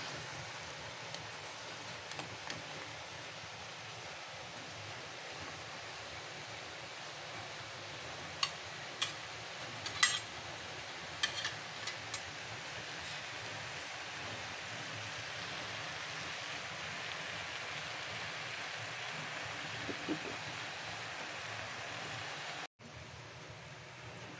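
Egg korma gravy with added water simmers in a pan with a steady, soft bubbling hiss. A few faint pops and ticks rise now and then, and there is no talk.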